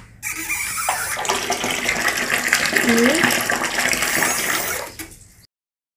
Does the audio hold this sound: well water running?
yes